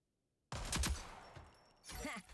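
Gunfire in the video game Rogue Company on Nintendo Switch: after brief silence, a loud burst of rapid shots starts, then fades, and a second burst follows near the end.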